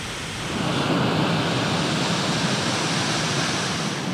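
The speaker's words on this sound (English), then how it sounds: "had some water moving down those mountains" Water rushing down mountain streams along the Great Glen Way in Scotland, a loud, steady, broad roar that fills the whole moment without any speech.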